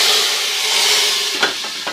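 Steady, loud sizzling and hissing of garam masala tempering spices frying in hot ghee, with a couple of sharper crackles near the end.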